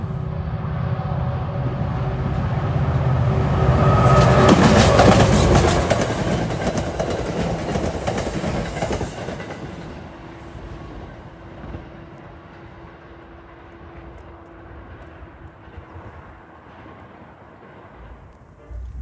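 A Hoboken-to-Middletown commuter train rumbles past on the former Erie main line in Bergen County, New Jersey, loud at first with rhythmic clatter, then fading into a steady distant roll as it moves away.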